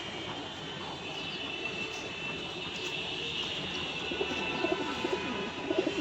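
An adult pigeon coos softly amid a low rumbling background, its calls faint and repeated, growing slightly more distinct toward the end.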